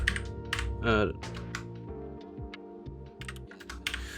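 Someone types on a computer keyboard, tapping a quick, irregular run of close, crisp keystrokes with no voices.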